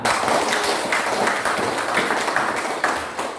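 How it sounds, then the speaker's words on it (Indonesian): Dense, loud clapping from a room of students applauding together, steady and continuous throughout. "Kalau masih semangat, mana tepuk tangannya?"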